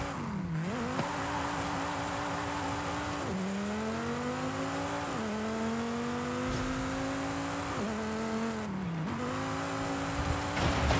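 A naturally aspirated car engine in the video game Forza Horizon 5 revs up and down in repeated rising sweeps with short drops between gear changes, loud and close, with tire squeal mixed in throughout.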